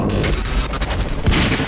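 Explosions and heavy gunfire in the shooter game Quantum Break on hard difficulty: loud, dense booms and crackling blasts layered over one another, with a sharp burst near the end.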